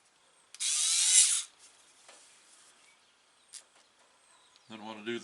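Screws being run down in a crisscross pattern on a Poulan 2075 chainsaw carburetor with a power driver, one loud close burst of whirring followed by faint clicks, then a voice speaks briefly at the end.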